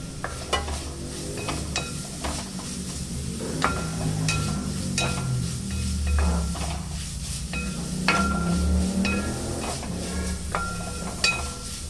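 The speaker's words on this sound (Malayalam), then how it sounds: "നമുക്ക് ഇടയ്ക്കൊന്ന് തുറന്നിട്ട് ഇളക്കി നോക്കാം." Chicken stew with onions stirred in a pan after the lid comes off, a steady low sizzle under repeated scraping and clinking of a spoon against the metal, close and continuous.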